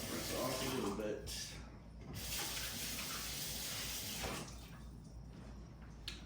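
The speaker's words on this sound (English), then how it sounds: "Rinse off a little bit." A kitchen sink tap runs steadily while something is rinsed during sweet potato pavé prep, giving a continuous close hiss of flowing water that swells and eases slightly throughout.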